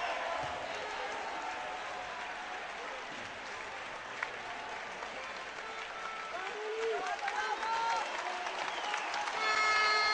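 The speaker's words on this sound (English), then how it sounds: "Very, very warm applause for both fighters there." Spectators at a 2009 judo tournament in Koper applaud both fighters after the -73kg final, a sustained, fairly distant clapping under a commentator's voice that swells toward the end.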